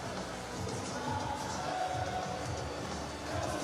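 Large crowd at a football stadium for an A-League match, Auckland FC against Sydney FC, a constant distant roar and murmur of many spectators filling the background.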